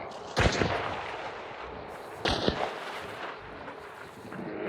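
Two heavy gunshots from a firearm in the video game Hunt: Showdown 1896, each a sharp loud crack with a booming tail, about two seconds apart over low background ambience.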